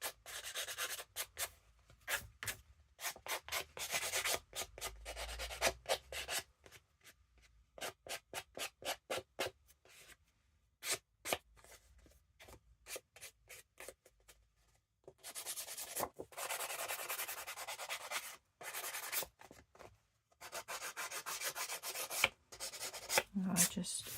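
An old nail file rasps along the edge of decoupage paper on a handmade journal in close, quick bursts of scratchy filing separated by short pauses.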